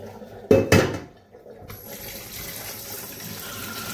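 Tap water runs into a sink while pokeweed greens are rinsed, with two brief louder splashes early on followed by a steady, moderate stream of running water.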